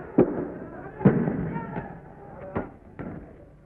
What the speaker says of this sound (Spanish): Se escuchan disparos de gases lacrimógenos.